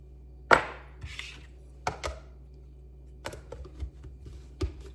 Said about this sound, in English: smash these chickpea. So I'm gonna be adding a little oil to the chickpea.